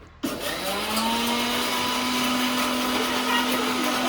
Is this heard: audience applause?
no